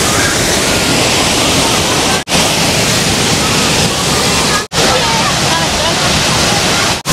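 A waterfall at Guci pours in a steady, loud, broadband roar that stays constant throughout, with only brief dropouts and no voices over it.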